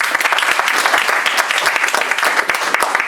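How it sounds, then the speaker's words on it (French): An audience at a Paris inauguration event applauds the team, a dense, loud burst of many hands clapping continuously with sharp individual claps standing out throughout. "je vous demande d'applaudir l'équipe s'il vous plaît"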